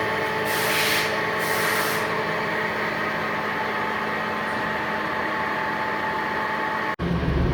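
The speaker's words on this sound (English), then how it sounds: "I'm just in here touching up some bores or some diameters of these shafts to fit better" Shafts and bores being touched up to fit in a shop, a continuous steady abrasive rubbing and whirring of sanding or light machining, with a few brief hissing bursts early and a sudden cutoff near the end.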